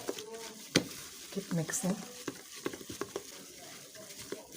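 Thick liquid soap paste, made from oil, being stirred and scraped in a container, with soft irregular squelching and clicking strokes close by and a faint voice in the background.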